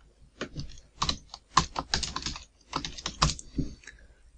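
Quick, uneven keystrokes clatter on a computer keyboard, close and fairly quiet, in short bursts with brief pauses and no talking.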